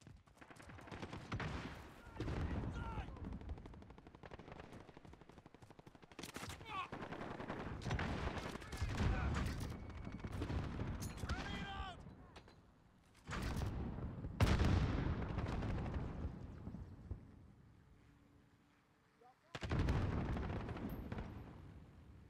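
Team deathmatch in Call of Duty Modern Warfare, with dense bursts of automatic gunfire and explosive blasts coming in loud waves separated by brief lulls.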